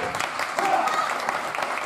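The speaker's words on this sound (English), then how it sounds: "They're clapping and cheering for Riho" Wrestling crowd clapping and cheering for Riho at a 2019 match against Masahiro Takanashi, a dense, continuous wash of applause filling the whole moment with a faint voice mixed in.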